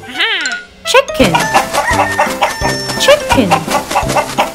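Cartoon chicken clucking in a children's animal quiz game, a rising-falling synthetic call opening the clip, then a steady run of loud clucks over a bright chiming music bed.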